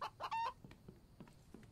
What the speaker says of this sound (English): Catch the chicken.